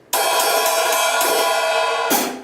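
An open hi-hat struck once, ringing with a long bright wash that sustains for about two seconds before a second hit at the end.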